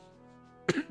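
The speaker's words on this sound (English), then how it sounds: "Excuse me, I have to cough." A single short, close cough breaks a quiet, humming background near the end of the moment.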